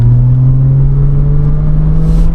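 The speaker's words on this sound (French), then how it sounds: "on se retrouve donc dans la voiture. Un petit essai routier comme d'habitude avec Julien du coup." Porsche Cayman engine on a road test, heard from inside the car as a steady, loud droning hum with a rising pitch, continuous throughout with no talk.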